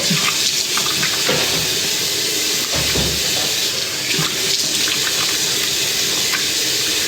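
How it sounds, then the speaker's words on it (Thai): Tap water running steadily into a sink during face washing, a loud, constant close-up gush with brief splashing changes and no talking. "ขอล้างหน้าด้วย"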